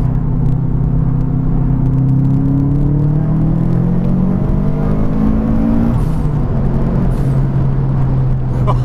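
A Subaru Impreza STI Type UK sports car engine revs and pulls through the gears, loud and close, rising pitch in a steady climb, dropping at a shift, then climbing again, with no talk.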